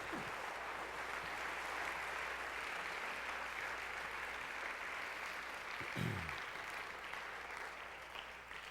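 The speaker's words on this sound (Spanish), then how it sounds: "Denle un aplauso al Señor" A church congregation applauds for a few seconds in a continuous, moderately faint patter of clapping, with a brief thump partway through and no voices on top.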